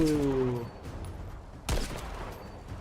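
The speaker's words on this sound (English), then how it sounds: "Crispy bolt action." A single sharp bolt-action sniper rifle shot fires in The First Descendant, loud and close, with a crack that rings out amid game ambience and music; a voice speaks briefly just before it.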